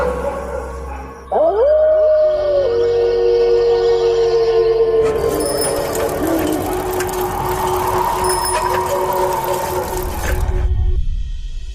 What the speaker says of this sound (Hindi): तभी देखते हैं कि राजा के कमरे की खिड़की के बाहर बहुत सारे कुत्ते आ चुके हैं।